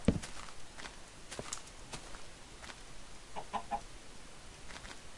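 A Minecraft chicken gives faint, brief clucks amid quiet game ambience and soft footstep-like taps, low in level throughout.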